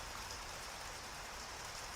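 Steady rain pours as a broad, even hiss with no breaks or voices, continuous and moderately soft throughout.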